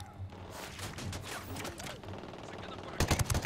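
AK rifle fire in the video game Ghost Recon Wildlands sounds as rapid bursts of gunshots, with a dense automatic volley at the end, mixed with game sounds and a voice talking.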